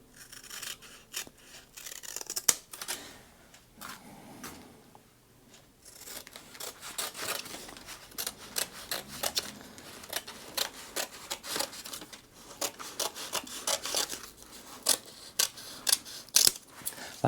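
Scissors or a blade snip and slice through a sheet of plastic motorcycle graphics for a 2022 Husqvarna FE 450, close, irregular cuts and crinkling rustles over a long stretch without voices.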